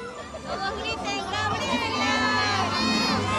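A crowd of children shouting together at an outdoor Christmas tree lighting event, a loud sustained roar of young voices with cheering rising toward the end.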